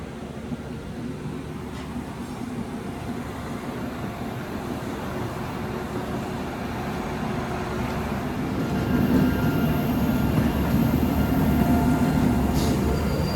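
Two Indian express trains, the Ganadevta Express with LHB coaches and the Howrah–Ranchi Shatabdi Express, run in parallel, with a steady loud rumble of wheels and coaches that swells louder toward the end, heard from onboard.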